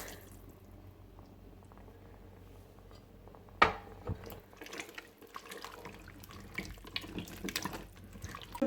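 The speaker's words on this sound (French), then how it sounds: "J'ajoute 350 ml d'eau dans lequel j'ai dilué mon bouillon de volaille" Water with diluted chicken stock poured into a Cookeo pot: a faint trickling liquid sound with a sharp knock partway through, followed by light splashing and drips, quiet and close, without talk.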